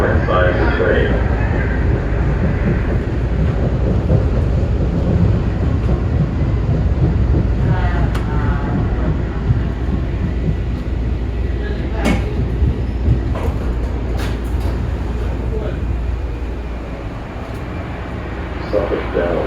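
A Blue Line subway train arriving at Suffolk Downs station, heard from inside the car: a steady rumbling roar with rail clicks and squeals, slowly easing as it slows, with an onboard announcement voice over it.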